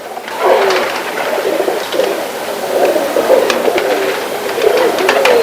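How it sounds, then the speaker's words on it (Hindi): A pet Teddy breed pigeon coos in loud, close, throaty rolling phrases that run almost continuously, with no talking during the calls. "अच्छा, देखो दोस्तों, ये एक टेडी परिंदा है।"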